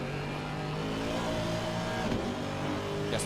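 A V8 race car engine in Assetto Corsa Competizione at Mount Panorama roars steadily and loudly from an onboard view, holding a sustained drone throughout.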